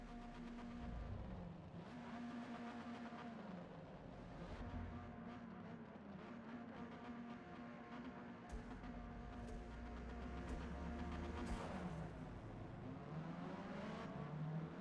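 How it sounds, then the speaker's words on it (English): A Hyundai Veloster N in Forza Motorsport holds a steady, high-pitched engine drone that bounces off the rev limiter, with faint rhythmic pitch wobbles and a rising push near the end, no talking. "Just bouncing off the rev limiter."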